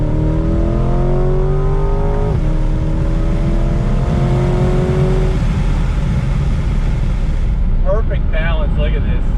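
A 2020 Ford Shelby GT500 engine drones under load on a race track, its pitch stepping through downshifts and blips before settling, with a person talking excitedly over the engine noise.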